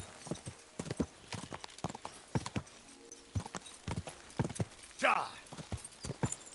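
Horse hooves clip-clop in a steady canter rhythm in Kingdom Come Deliverance 2, close and fairly loud, with a brief whinny partway through and a voice talking over parts of it.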